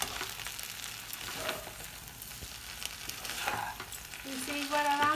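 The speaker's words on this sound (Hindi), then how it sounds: "मिक्सर डालने के बाद इसे मिक्स कर लेते हैं, बहुत आराम आराम से, आपके आपको हल्के हाथों से करना होगा।" Veg chowmein noodles with purple cabbage being gently tossed in a hot pan, a soft steady sizzle with light scraping of the utensil, fairly quiet and close.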